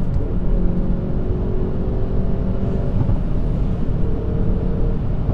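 A Hyundai i30N Performance SMN300 Limited Edition with 300 PS accelerates hard on the autobahn, its engine droning loud and steady with a deep rumble heard from inside the cabin.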